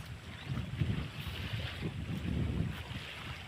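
Low rumbling wind and waves with a steady engine-like drone from a boat approaching a beach, continuous and moderately loud.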